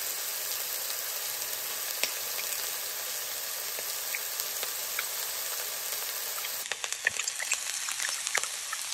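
Chanterelle mushrooms sizzling loudly in butter in a hot pan, a dense steady crackle that changes tone near the end as they are stirred.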